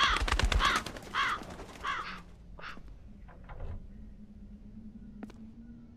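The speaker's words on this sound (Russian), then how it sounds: "Очень странная ворона" A crow caws a few times inside the video game House on the Hill, harsh calls up close at first, then sparser and fainter caws over a low steady hum.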